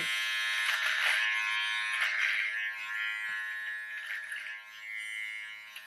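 A Kemei KM-5031 electric clipper buzzes steadily up close as it trims a beard against the grain, its whine wavering slightly with each pass and no voices.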